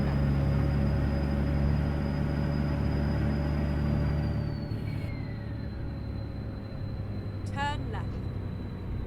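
A Detroit diesel truck engine in American Truck Simulator, a steady low rumble with a whining turbo tone that drops in pitch as the truck shifts, with a short burst of talk near the end.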